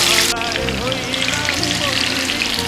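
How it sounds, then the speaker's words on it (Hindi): Pieces of katla fish fry in hot mustard oil in a kadhai over a medium flame, giving a dense, steady crackling sizzle with bright spitting pops, loud and close with no talking. "इन फिश को मीडियम फ्लेम पे पलट के दोनों साइड से ब्राउन होने तक फ्राई करूँगी।"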